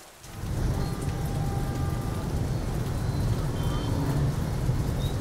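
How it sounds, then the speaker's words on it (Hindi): Heavy rain pouring down steadily in Karachi during a storm, a loud continuous wash of drops on surfaces that starts abruptly and holds constant throughout, with a faint distant rumble beneath. "बारिश अभी भी हो रही है?"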